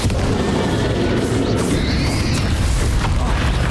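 Booming blast from the Bombarda spell during a final boss fight in Hogwarts Legacy, a loud, sustained rumbling explosion wash that fills the whole stretch without pause.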